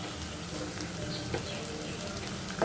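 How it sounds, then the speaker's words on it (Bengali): Whole spices, cloves and white cardamom, fry in oil for a fish bhuna, giving a soft, continuous, rain-like sizzle with occasional small pops, fairly quiet and alone. "এগুলো ভালো করে কষায় নেব।"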